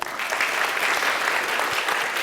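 An audience claps in a sustained round of applause, many hands beating together at a steady, fairly loud level from start to finish.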